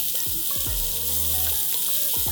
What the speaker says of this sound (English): Saute the onions till they're nice and soft.